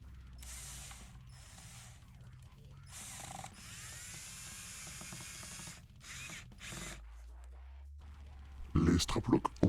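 Straplocks with steel washers being driven into a guitar body with wood screws, a run of ratcheting, whirring tool bursts with pauses between, ending in sharp clattering clicks, with faint voices in the background.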